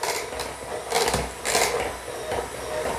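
Electric hand mixer whirring through mashed potatoes with cream in a kitchen, a steady mechanical hum with several louder surges as the beaters dig in, close and continuous.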